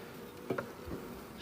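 Honeybees at a hive drone in a soft, close buzz over a steady low hum, with a few brief louder passes as insects fly near.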